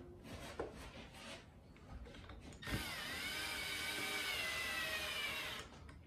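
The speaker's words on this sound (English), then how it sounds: "I'm gonna go ahead and start screwing those in" A screw driven into the wooden body of a DIY Les Paul-style guitar, a short scrape and then a steady whirring power-tool grind for about three seconds, close and moderately loud.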